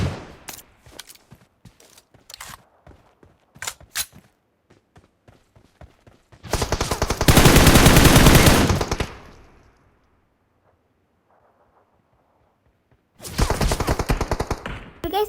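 Gunfire in the mobile game PUBG Mobile: scattered single shots and short bursts, then a long loud automatic burst lasting about three seconds, a pause, and another sustained burst at the end.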